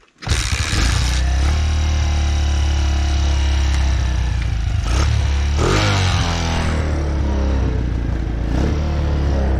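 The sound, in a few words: Honda ATC 185 three-wheeler with Chinese 150cc engine running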